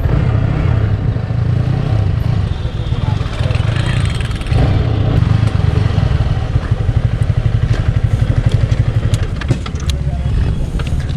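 A Yamaha R15 V3 motorcycle engine runs with a slightly metallic, rapid pulsing beat, loud and close, with a brief dip midway and someone talking over it.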